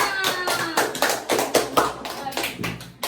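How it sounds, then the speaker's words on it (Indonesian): Schoolchildren in an English-and-Indonesian force and motion lesson clap together in a classroom, a few loose bursts of hand claps at close range with scattered voices mixed in. "Clap for us. Tepuk tangan untuk kita semua."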